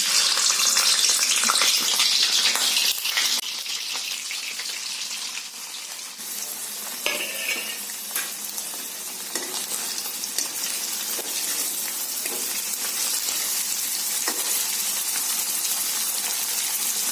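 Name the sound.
paneer frying in hot oil in a pan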